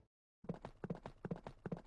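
Hooves of a horse-drawn cart in the game FGO clip-clop in a steady, even rhythm after a short silence, close and clear with no voices.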